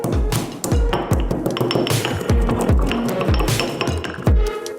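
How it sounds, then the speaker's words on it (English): Pestle pounding a mix of peppercorns in a mortar, a steady run of sharp ringing clinks, a dozen or so close, loud strikes in an uneven rhythm with no talk. "We send a mixture of peppers into a mortar and grind them."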